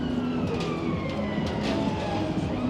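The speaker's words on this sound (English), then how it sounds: "We have got another ambulance going past behind us." An ambulance siren passes behind a crowd on a Saturday night during the Blackpool Illuminations, its wail rising and falling over steady traffic and street noise at moderate distance.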